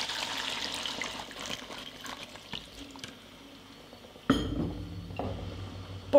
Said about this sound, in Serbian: Dodajem 300 ml vruće vode